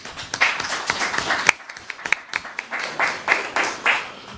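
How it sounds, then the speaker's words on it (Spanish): A small audience at a legal workshop in the Chamber of Deputies claps for the speakers, with sparse individual claps that stand out sharply and a few people clapping unevenly at close range. "por favor, regalémosle un gran aplauso"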